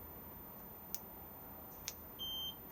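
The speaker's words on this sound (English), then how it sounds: "so 1 beep armed" Caravan alarm key fob on a Swift Fairway 530 with a Sergeant alarm: two faint button clicks, then a single short, high electronic beep confirming arming, quiet against a low background hiss.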